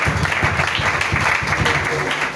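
Church congregation applauding during a French-language sermon on prayer: dense, steady clapping throughout, with a faint voice mixed in underneath.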